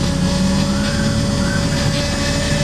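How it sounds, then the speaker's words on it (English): Fuel pumps on a 1990s JDM JTCC touring race car whir loudly in a steady, continuous drone with a constant whine above it. The sound is close up and nobody speaks. "You can hear the pumps are pretty noisy."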